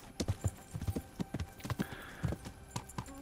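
A horse's hooves clip-clop in Kingdom Come Deliverance, a quick uneven run of sharp close steps on hard ground with a brief whinny-like tone in the middle.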